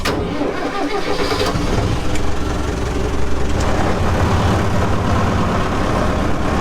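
An old tractor engine cranks and fires into life after sitting unused for eight years, catching abruptly and settling into a loud, rough, steady running rumble close by.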